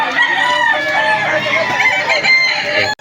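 A White Claret gamecock rooster crows loudly and close by in one long, strained cock-a-doodle-doo that fills almost the whole moment before it cuts off abruptly.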